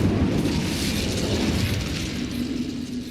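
Incendio fire spell blasting in Hogwarts Legacy, a loud, roaring burst of flame that holds steady for about three seconds and tapers off slightly at the end.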